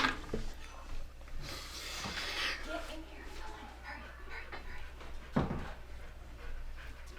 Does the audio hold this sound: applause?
no